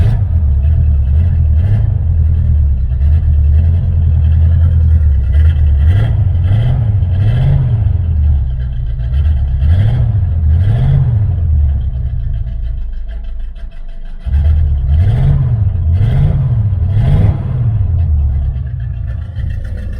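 A 1978 Chevrolet Nova V8 hot rod idles loudly close by, its engine rumbling with repeated rev swells and a brief dip before it pulls away, the sound staying heavy and steady throughout.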